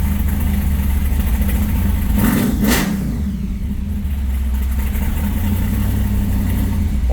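A Pro Street Chevelle V8 with solid roller lifters runs steadily at a warm idle, a loud, continuous low rumble that lifts briefly into a short rev partway through, with no talking.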